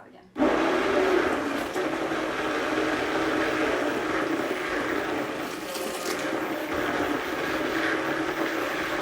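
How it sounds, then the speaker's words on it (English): A kitchen blender whirs loudly after starting abruptly, holding a steady, harsh motor roar close by with slight wavering, apparently a machine that is starting to break down. "it's gonna get loud again."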